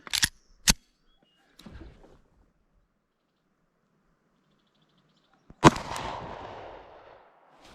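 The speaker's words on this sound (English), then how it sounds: "I'm going to start with the SIG and I'm going to shoot it at the left target" A Sig Sauer P365 pistol fires at an outdoor range: two sharp shots at the start, then a softer thump, a long pause, and one more loud report with a trailing echo.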